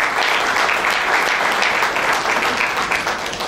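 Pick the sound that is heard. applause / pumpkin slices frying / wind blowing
applause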